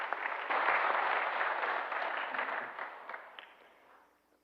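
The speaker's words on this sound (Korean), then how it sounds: "성함이 황유진 성도님이신데 귀하게 신앙하다고 박수로 환영하겠습니다" Applause welcoming a new member during a Sunday church service, a broad steady clatter of many hands from the congregation that swells at once, holds evenly for several seconds, then thins and fades out.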